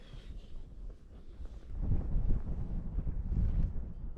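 Wind gusts buffet a snowy mountain campsite, rough blustery rushing that swells louder after the first couple of seconds and keeps surging, close to the microphone with no talk.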